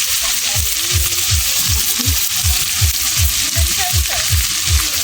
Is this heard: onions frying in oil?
yes